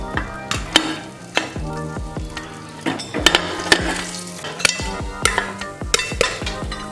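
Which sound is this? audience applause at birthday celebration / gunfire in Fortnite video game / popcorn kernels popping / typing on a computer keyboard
popcorn kernels popping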